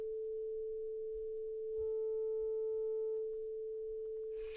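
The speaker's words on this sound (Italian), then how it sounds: "vedete che andiamo a generare queste armoniche questa serie di armoniche, e le possiamo anche sentire" A steady pure tone hums throughout, joined midway by a stack of fainter higher tones that layer above it for a second or two, then fade.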